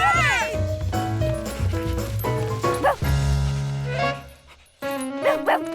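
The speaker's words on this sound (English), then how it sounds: "It's that dog again!" Cartoon dog barking and yipping in quick bursts, mixed with a musical score and voices.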